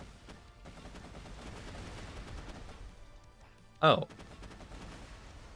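Rapid-fire rocket launcher in Borderlands 2, wielded by Axton, pumping out a dense stream of shots with a sharp burst near the end; a voice makes a brief exclamation.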